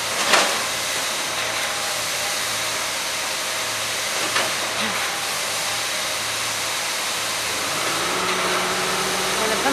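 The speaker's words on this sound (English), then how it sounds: "the concrete truck hooks up to the pump truck" A loud, continuous mechanical roar with hissing from a concrete pump truck running nearby, fed by a concrete truck, with a few sharp knocks.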